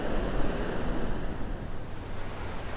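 Strong wind buffets the microphone on a Caribbean beach at Uvero Alto, Punta Cana, with steady surf rolling underneath, a continuous loud broadband roar throughout with no speech.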